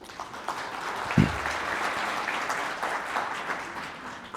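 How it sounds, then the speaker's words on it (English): An audience at a research symposium for emerging researchers applauds a group of schools; steady, dense clapping fills the room throughout, with a brief louder thump near the start. "Let's give them a round of applause, please"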